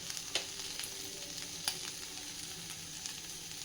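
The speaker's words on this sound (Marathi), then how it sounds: "मस्त मिक्स करून घेऊया ते आणि छानपैकी भेंडी अशीच झाकण न ठेवता" Okra seasoned with goda masala and salt is stirred in an open pan, giving a soft steady sizzle with a few sharp scrapes and clicks of the spoon against the pan.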